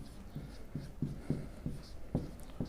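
A teacher writes on a board in a math class, the marker or chalk tapping and scratching in a quick, soft, regular series of strokes with no talking.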